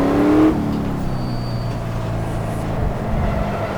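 An Ultima GTR engine drones steadily while driving, a low continuous rumble with a brief rise in pitch at the start before settling into a constant cruising tone.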